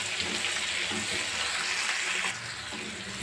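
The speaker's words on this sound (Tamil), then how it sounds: "இப்போ கருவேப்பிலை ஆட் பண்ணிக்கங்க இது லைட்டா வதங்கட்டும்" Garlic, tomato and curry leaves saute in hot oil with a steady, dense sizzle that holds close and constant throughout, easing slightly toward the end.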